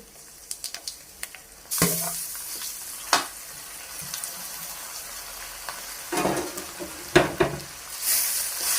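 Grated raw mango dropped into a hot pan for mango pulihora, a few light clicks before a sudden burst of sizzling, then intermittent scraping stirs and renewed sizzle bursts, close and without speech.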